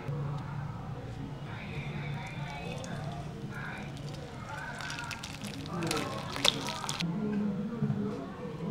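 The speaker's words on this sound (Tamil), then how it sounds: "இப்போ நம்ம வடித்து தனியாக எடுத்துடலாம் பன்னீரை." Whey drains from homemade paneer through a white cotton cloth, with squishing, dripping and trickling liquid that grows louder and more splashy midway, close up, while a person talks over it.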